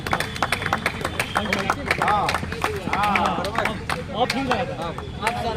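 Audience applause for Dr. Manish at a gathering forming the Durga Sena, with dense overlapping claps all the way through while someone speaks over the clapping and voices murmur in the background.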